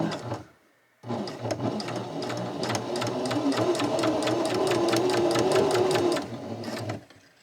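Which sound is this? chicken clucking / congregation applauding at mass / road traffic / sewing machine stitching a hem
sewing machine stitching a hem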